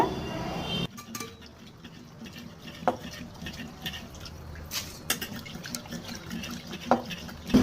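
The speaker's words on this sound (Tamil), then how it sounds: "நல்லா ஒரு தடவை இது போல் க்ளீன் பண்ணி எடுத்துக்கோங்க" Rice for appam batter is rinsed by hand in water, giving a close, steady patter of sloshing and swirling with brief louder splashes throughout.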